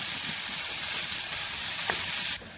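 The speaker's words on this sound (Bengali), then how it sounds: "এই যে ভর্তার জন্য সব উপকরণ রেডি, একটু ভেজে নামিয়ে নেব।" Onion and other bharta ingredients frying in a pan give a continuous loud sizzle with a faint stirring scrape, then the sizzle cuts off abruptly near the end.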